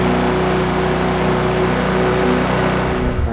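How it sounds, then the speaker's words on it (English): A two-stroke weed eater engine running on an oil and gas mix, held at a steady, loud, close drone with a constant high buzz throughout and no talking. "This is different from the mower because it's a two cycle, so it uses an oil and a gas mix."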